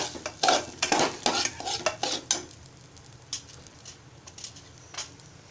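A mung dal and rice mixture is stirred in a pan, with a burst of brisk, close scraping and clinking strokes that gives way to a quieter sizzle.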